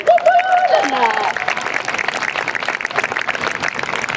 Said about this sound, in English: So future Momentum teachers are in the house. Clap for them.